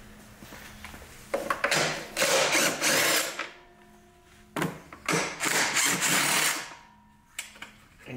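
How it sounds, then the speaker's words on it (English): Ratchet wrench with a half-inch socket loosening nuts on a lawn mower, loud bursts of rapid clicking in several spells separated by pauses. "So you need a half inch socket."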